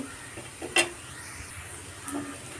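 A spiced chicken masala mixture with garam masala and pepper powder is stirred in a pan, soft scraping over a faint background sizzle, with a couple of sharper utensil knocks against the pan.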